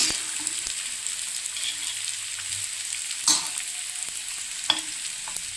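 Vadis fry over a low gas flame in a pan, giving a soft, continuous sizzle with occasional light clinks and scrapes from stirring. The sound is quiet and close, with no voices.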